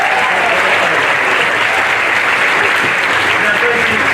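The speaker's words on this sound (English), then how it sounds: "Give it a big round of applause." Loud, dense audience applause at a live stage show, a continuous roar of many hands clapping close by for about four seconds.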